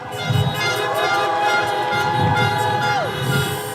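Car horns honk at an outdoor campaign rally in St. Paul, Minnesota, sustained tones layered together for several seconds amid crowd noise.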